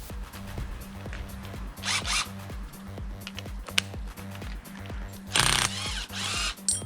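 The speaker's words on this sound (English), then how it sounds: "I'll try the electric impact driver on this." An electric impact driver works on a bolt during a power steering replacement on a Honda Accord Euro K24, with bursts of rapid hammering mixed with short rattling and scraping sounds nearby.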